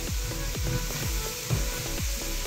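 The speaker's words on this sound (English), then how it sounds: "So I'm just gonna fry this mushroom with the onions" Mushrooms and onions sizzle in a Saladmaster pot for mushroom fried rice, a steady frying hiss over a repeating low knock that comes about every half second.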